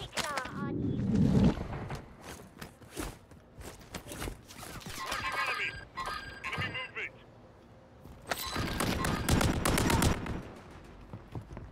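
Call of Duty firefight with sharp gunshot cracks, some in rapid bursts, scattered across the scene amid footsteps and gear clatter, while people talk over the action.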